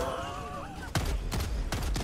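Several sharp gunshots from a Helldivers 2 match, spaced irregularly over two seconds and following a stretch of voice-like tonal sound; loud and close.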